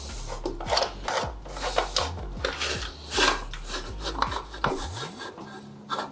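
The height adjustment knob on a Yesoul G1M Max exercise bike is unscrewed by hand. Close, uneven bursts of rubbing and scraping come with each turn, with no voices.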